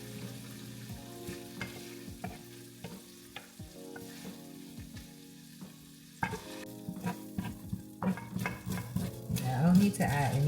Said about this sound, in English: I don't need to add any grease to this pan to do these onions